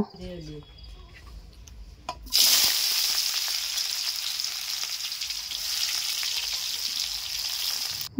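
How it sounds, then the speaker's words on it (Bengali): Chopped onions and bay leaves hit hot oil with a sudden loud hiss that settles into steady, close frying sizzle over a clay stove while duck curry is cooked; a few quiet sounds come before the onions go in. "গরম তেলে কুচি কুচি করে কাটা পেঁয়াজ আর তেজপাতা দিয়ে আমি এটাকে গোল্ডেন ব্রাউন করে ভেজে নেব"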